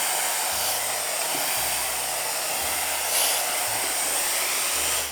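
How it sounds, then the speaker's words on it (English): A hair dryer blows hot air onto curly hair in a steady, close, loud whoosh, with its low motor hum dipping and returning as it is moved around, no voices. "look at me blow drying"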